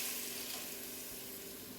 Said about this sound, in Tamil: குழம்பு நல்லா இப்போ கொதிக்கட்டும்.